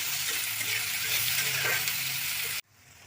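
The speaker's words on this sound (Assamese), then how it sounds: "পিঁয়াজখিনি এতিয়া মই ৰঙা হোৱালৈকে ভাজিব লাগিব।" Onions fry in oil for an Assamese fish curry with data shak, a dense, steady sizzle heard up close. It cuts off abruptly to a quieter, softer hiss.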